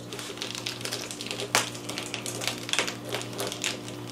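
Bag taper sealing a venison and pork bratwurst sausage bag, giving a string of light mechanical clicks and one sharp snap over a steady low hum. Close, with no voices.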